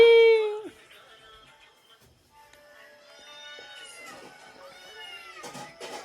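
A loud, drawn-out cat meow opens, followed by quieter, softer mews and faint background sounds.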